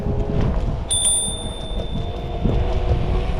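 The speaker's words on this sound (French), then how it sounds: "On va faire le test de la sonnette." A 5TH WHEEL M1 electric scooter's bell gives a single bright ring that lingers over the rumble of riding outdoors, with no voices.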